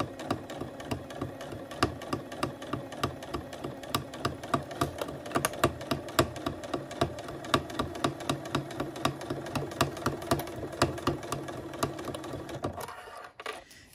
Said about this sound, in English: I'm going to stitch all the way around my project.